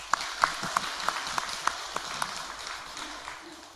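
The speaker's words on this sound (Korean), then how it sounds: "하나님께 영광의 박수를 올립니다" A church congregation at a worship service claps together in a quick, regular rhythm; the sharp synchronized claps are distinct at first, then soften and blur into looser applause toward the end.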